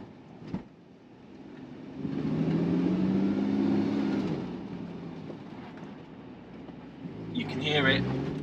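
A Porsche 981 Cayman GTS with its flat-six engine purring on the road, a steady low drone from inside the cabin that swells and settles, with road noise and a brief rise near the end.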